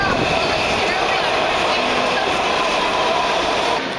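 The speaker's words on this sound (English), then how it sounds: "We're currently stuck in a subway." Subway train heard from on board, a steady loud rumble and rushing hiss of the carriage with faint clatter, continuous throughout with no clear breaks.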